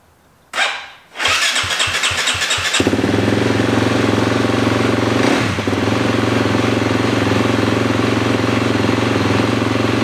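A KTM 250 motorcycle with a newly installed starter torque limiter whirs on its electric starter, cranks in quick pulses, then fires up and settles into a loud, steady, close idle, with no one speaking.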